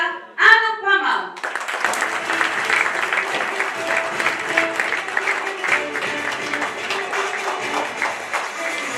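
An audience applauds at the awards ceremony of the Qatar World Snooker Championships, with steady, sustained clapping from a sizable crowd that follows a brief spoken announcement over a microphone.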